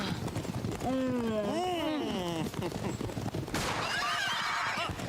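A horse whinnies loudly with a long, wavering neigh amid busy background noise and hoofbeats, followed by a burst of commotion.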